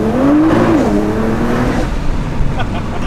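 Race car engine revving while being driven, a loud steady whine rising and falling near the listener, with a person talking over it.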